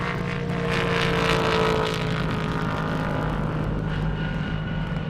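Ford Mustang GT500 and GT350 drag racing on a half-mile airport strip, a loud sustained engine roar that swells and fades slightly as the cars run, with no voices.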